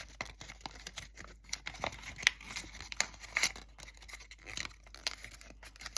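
Paper being folded and creased for a paper blade top, close crinkling and scraping rustles with sharp crisp snaps, fairly quiet and continuous with no talking.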